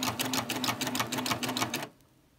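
A serger sewing machine with a clear curve foot stitches in a fast, steady mechanical rattle for nearly two seconds, then stops abruptly into near silence.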